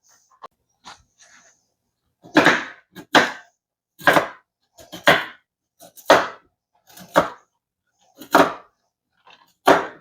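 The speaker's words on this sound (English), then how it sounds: "So I'm going to rough chop about a cup of walnuts." A knife rough-chops about a cup of walnuts on a cutting board: a few light taps, then a steady series of about a dozen sharp, crunchy chops in uneven rhythm, close and clear, with no talk.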